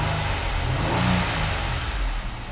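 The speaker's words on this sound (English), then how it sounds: "I'm gonna rev the engine." A 2011 Nissan Maxima SV engine revs while parked, a steady loud mechanical drone that swells briefly and settles, heard close and alone.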